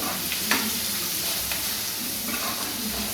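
Sliced onions sautéing in a pan for a spicy potato curry, a steady close sizzle with a few soft scrapes of stirring throughout and no voices.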